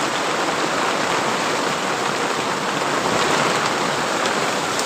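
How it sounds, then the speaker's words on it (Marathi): Heavy unseasonal rain pours down steadily beside a sugarcane field, a dense, continuous hiss of water with no pauses and no voices. "बघा इकडे पाऊस खूप मोठा पाऊस पडालाय"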